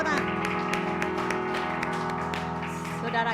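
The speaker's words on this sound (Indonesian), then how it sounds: "Berikan tepuk tangan." A church congregation claps during a service, a steady run of applause beneath sustained organ or keyboard chords, with a voice talking faintly through it.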